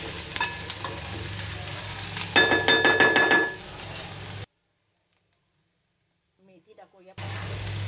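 Sautéed onion in a pan as vegetables are stirred in, with a sizzling fry and a burst of scraping, clinking stirs before a sudden cut to silence, then the sizzle returns.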